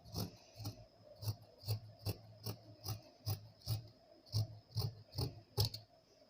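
Scissors cut blouse cloth for a boat neck blouse in a steady run of about thirteen close, crisp snips, roughly two per second, with no talking.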